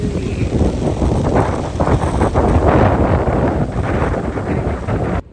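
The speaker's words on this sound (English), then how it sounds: "It is so windy." Strong wind buffets the microphone on a city street, a loud, continuous roaring rumble that swells and eases slightly before cutting off abruptly at the end.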